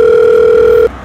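A telephone ringing tone sounds as a single loud, steady electronic tone, held for nearly a second before stopping abruptly.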